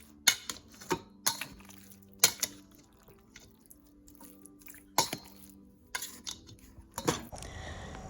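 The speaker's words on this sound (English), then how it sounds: "I'm going to stir that up really good, mix it well" Pork tenderloin stirred with taco seasoning, giving a series of sharp, irregular clinks and scrapes of a utensil against a bowl, with wet squishing between them, close and fairly quiet.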